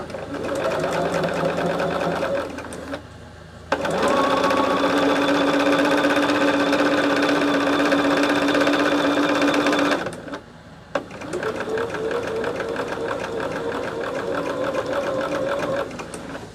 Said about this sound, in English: We are just sewing, just sewing.